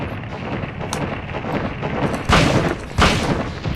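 Two sharp gunshots ring out a moment apart in the Silent Hill video game, loud and booming against a rough, windy ambient backdrop.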